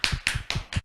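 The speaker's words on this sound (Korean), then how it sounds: "다시 한번 박수로 맞이하겠습니다" Four sharp hand claps in an even rhythm, close and distinct with short gaps between them, welcoming a speaker at a leadership lecture.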